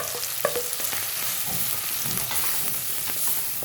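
Spices and coriander frying with softened tomatoes in a pan for boneless chicken masala, a steady close sizzle with scraping stirs and spoon knocks, no talking.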